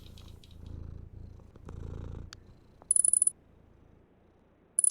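A cat purrs in the video game Cadence, a close, rhythmic rumbling in steady pulses, broken by short bursts of bright, high chiming game sounds.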